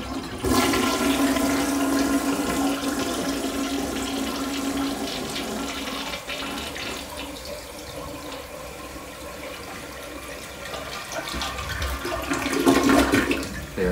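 An old toilet in a pink bathroom flushes with a loud, steady rush of water that lasts the full stretch and swells again near the end, close by and with no talking.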